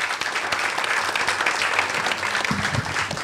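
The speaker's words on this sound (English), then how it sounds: "So everybody give Susan a big round of applause." A festival crowd at a Florida Film Festival panel on women in the film industry gives a sustained round of applause, a dense, even wash of many hands clapping at once.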